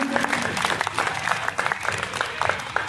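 Audience applause at a Jain diksha ceremony at Ramlila Maidan in Jaipur, a dense, steady patter of many hands clapping throughout, fairly close and continuous.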